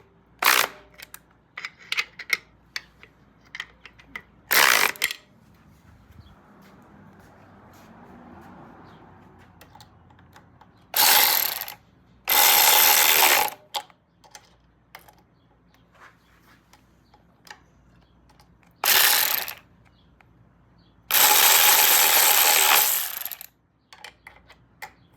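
A ratchet tightens the fork caps on a 1971 Triumph T120 motorcycle in four sharp, close bursts of rapid clicking, separated by quiet pauses with small handling knocks.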